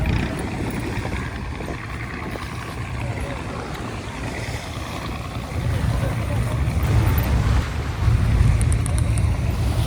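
A boat at sea off Miramar beach in Goa rumbles steadily under wind and water noise, the engine and hull sounds swelling louder toward the end.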